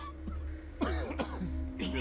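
A man coughs and clears his throat in a video game, a few rough hacking bursts close by over a steady low hum.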